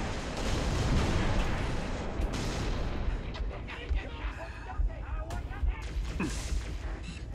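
Concussion rifle blasts in Halo: Reach boom in heavy, repeated explosions amid a chaotic firefight, loud at first and then coming as scattered thumps, with players' voices heard among them.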